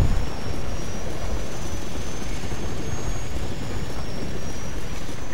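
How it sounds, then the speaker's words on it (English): A helicopter in the video game Call of Duty: Modern Warfare 2 drones as a loud, steady rotor and engine rumble, continuous and unbroken with no voices over it. "Okay, there goes that helicopter."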